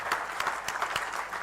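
An audience at a journalism festival event on AI and education in Indore claps, a dense burst of applause with distinct nearby hand claps standing out throughout.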